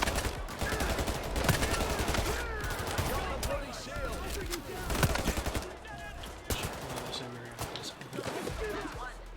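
Rapid gunfire in a video game, aimed at an enemy's shield, crackles in dense bursts for several seconds while players talk over it.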